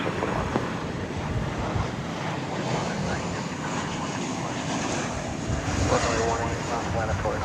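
An airliner takes off from runway 18 left at DFW Airport, a steady, broad engine roar that holds for several seconds and swells slightly near the end, with faint talk in the background.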